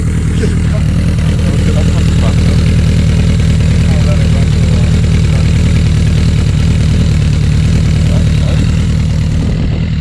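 A motorcycle with a new muffler, its baffle still fitted, idles loud and close in a steady, continuous low rumble for the whole stretch.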